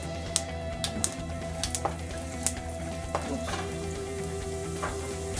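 Cumin seeds and red chilli sizzle in oil in a pan over low heat, a steady close frying hiss scattered with small pops and crackles.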